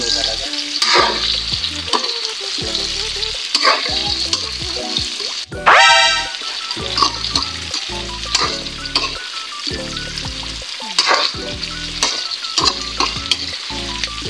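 Tofu sizzles loudly as it fries and is stirred in a pan for a pork tofu dish with black beans, with steady crackling throughout and occasional scraping strokes. A brief sharper burst rises partway through.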